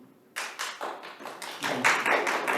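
Applause from the audience at a Human Relations Commission meeting begins suddenly after a brief quiet and builds into steady, dense clapping that grows louder toward the end.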